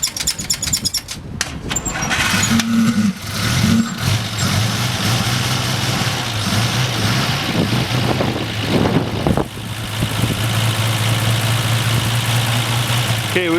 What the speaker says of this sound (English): 216 little 6-cylinder in there. You can hear it.